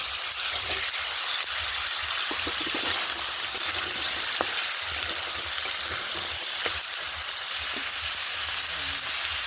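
Eggplant frying in a pan for a dried-fish dish, a continuous close sizzle with scattered crackles and pops and faint stirring clatter, no talk.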